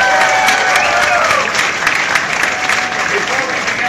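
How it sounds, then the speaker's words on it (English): Crowd applause at an outdoor statue unveiling of Tom Kelly outside Target Field, honoring the 1987 World Series champion Minnesota Twins; steady, dense clapping fills the clip with some crowd noise. "Let's have a big round of applause for them."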